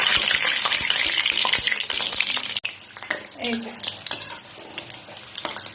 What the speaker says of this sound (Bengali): সুন্দর করে ভাজা হয়ে গেছে, উল্টে পাল্টে ভেজে নিচ্ছি।